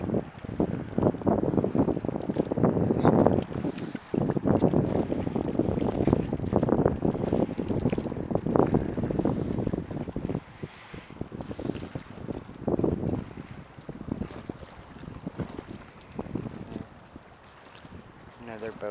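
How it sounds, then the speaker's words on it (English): A motorboat engine drones steadily nearby in a marina harbor with buffeting wind across the microphone, the rumble easing toward the end as it moves off. "Another boat going in."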